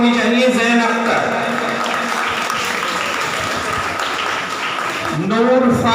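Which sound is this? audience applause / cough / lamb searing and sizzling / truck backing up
audience applause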